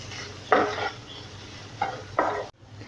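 Egg fried rice is stirred in a pan, with three distinct scraping, sizzling strokes of the spatula, close and fairly loud with short pauses between.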